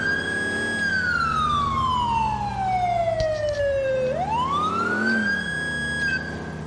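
A police car siren in the video game LCPD FR wails in one long slow sweep, falling and then rising again. It is loud and close over a low engine hum, with no talking.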